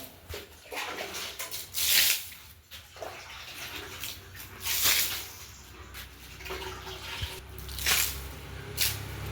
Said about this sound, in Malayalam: നമ്മൾ ഇതുപോലെ വെള്ളം ഒഴിച്ചങ്ങ് നന്നായിട്ടൊന്ന് കുതിർത്ത് കൊടുക്കണേ